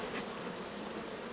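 Bees buzzing in a dense, continuous drone around an opened Layens hive, close and steady with no voices over it.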